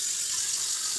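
Water running steadily from a tap while raw chicken is washed, a continuous hissing splash lasting a moment, close and moderately loud.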